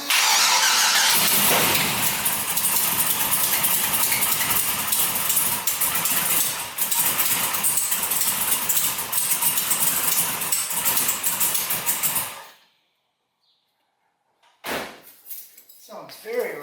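A Chevrolet LS twin turbo engine in a Ranger cranks and runs loud and rough for about twelve seconds, with a voice speaking over it, then stops; a couple of bangs and short noises follow after a pause.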